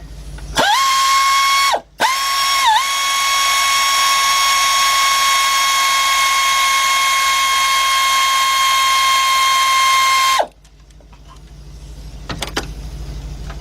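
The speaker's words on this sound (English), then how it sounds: "I'll get my air ratchet." An air ratchet whirs at high speed while loosening spark plugs on a 2000 Ford Excursion with the 5.4 engine, a brief burst, a short pause, then one long sustained run that cuts off, followed by faint clinks.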